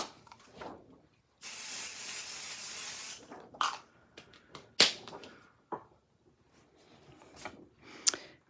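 A pixie spray bottle mists water for paint splattering, one long hissing burst of about two seconds followed by scattered short sprays, wet pats and taps, close and isolated without speech.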